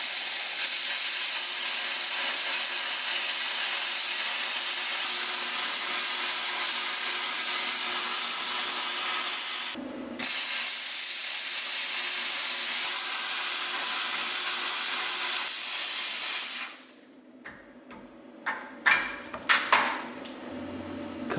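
Plasma cutter slicing metal along a template, a loud, steady hiss and roar running for about sixteen seconds with one brief break, then stopping into clanks and scraping of metal pieces.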